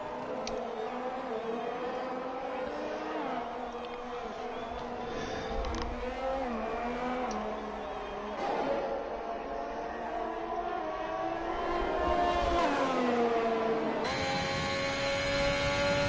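An Alfa Romeo race car on a hot lap around the France circuit in a racing game, its engine whining steadily, pitch climbing and dropping through gear changes, then rising to a sustained high drone near the end.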